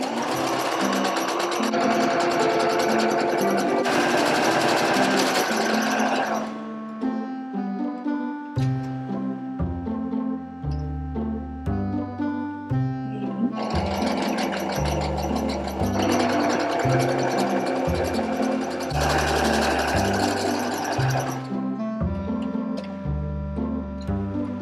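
A sewing machine stitches the sides of a fabric eco bag's outer shell, handles folded inside, running in steady mechanical bursts under continuous background music.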